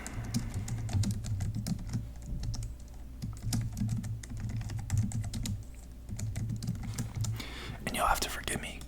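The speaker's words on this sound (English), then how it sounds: "forgive me for my abysmal typing because I am in a really awkward position with this keyboard and mic" Steady clicking of a computer keyboard being typed on in uneven bursts, close and crisp, with soft whispered talk running underneath much of the time.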